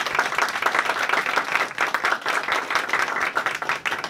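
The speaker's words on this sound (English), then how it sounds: "Give this panel a round of applause one more time," Audience at a congressional briefing on foster youth applauding a panel, brisk close clapping from a modest crowd, steady and fairly loud throughout.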